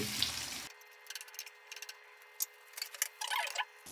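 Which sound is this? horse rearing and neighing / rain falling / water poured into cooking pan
water poured into cooking pan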